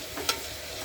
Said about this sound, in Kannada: ಗೋಡಂಬಿ ಮತ್ತು ಶುಂಠಿ ಬೆಳ್ಳುಳ್ಳಿ ಪೇಸ್ಟ್ ಹಾಕ್ಕೊಂಡು ಇದನ್ನು ಅಷ್ಟೇ ಒಂದರಿಂದ ಎರಡು ನಿಮಿಷ ಹಾಗೆ ಇದನ್ನು ಸ್ವಲ್ಪ ಹಸಿದ ಮೇಲೆ ಹೋಗೋವರೆಗೂ ಇದನ್ನು ಫ್ರೈ ಮಾಡ್ಕೊಳ್ಳೋಣ